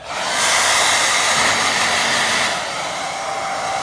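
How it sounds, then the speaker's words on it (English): A hair dryer on low blows steadily over a watercolour painting, a continuous whooshing roar close by that dips slightly in strength partway through, with no talking. "I'm going to get that a quick blast with dryer."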